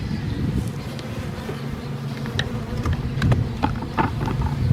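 Bees hum and buzz steadily around a beehive entrance outdoors, a dense close drone with individual insects passing nearby.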